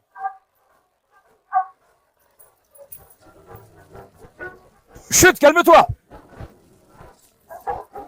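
A large blue Cane Corso dog gives short whimpers and a burst of loud barking at close range among other dogs, with a person speaking softly in between.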